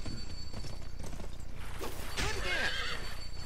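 In the video game GUN, a horse's hooves clip-clop in a steady gallop, then a loud, shrill whinny rings out near the end, with faint whooshing.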